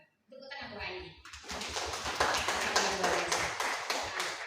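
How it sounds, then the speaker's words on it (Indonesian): Audience clapping at a gathering, starting after a brief voice and building into rhythmic, fairly steady claps from a group, moderately loud and continuing to the end. "Tepuk tangan Bu HID."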